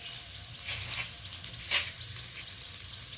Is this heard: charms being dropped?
no